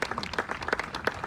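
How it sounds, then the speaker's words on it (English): An audience at an outdoor statue unveiling applauds in a short burst of dense, close clapping. "so let's give them a round of applause"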